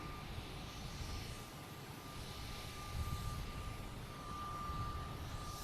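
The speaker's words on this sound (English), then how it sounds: "We got a JetBlue coming in, flight 434 from San Francisco." A JetBlue Airbus A321 jet on approach to land at Boston Logan Airport gives off a steady, distant broadband roar that swells slightly midway, with no voices over it.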